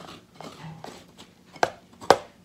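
Spaghetti squash flesh scraped out of a microwaved half into a bowl: soft, close scraping strokes building to two sharper, louder scrapes near the end, with no talking.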